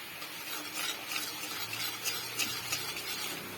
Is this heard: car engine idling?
no